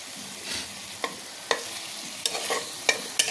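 Marinated chicken pieces sizzle steadily in a pan with little oil, while several sharp scrapes and clatters mark the pieces being stirred and flipped over; no voices.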